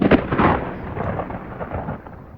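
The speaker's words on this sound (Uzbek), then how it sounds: "Tashqarida momaqaldiroq gumburladi." A thunder rumble serves as a storm sound effect in an audiobook, opening with a loud crack-like burst and fading into a rolling, decaying rumble over about two seconds, with no voice over it.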